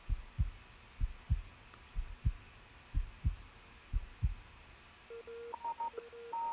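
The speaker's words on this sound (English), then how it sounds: "So I hear heartbeat." A slow, steady heartbeat on an album track, deep muffled thumps in paired beats repeating about eight times, followed by a few electronic beeping tones.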